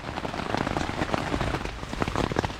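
Rain drums steadily on a tent in the woods, a dense, close patter of drops striking the fabric with no pause and no talk.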